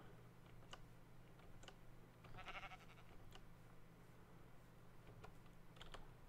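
Sheep in the game Minecraft let out a faint, brief bleat amid scattered soft keyboard typing and clicks, all at a low level over a steady hum.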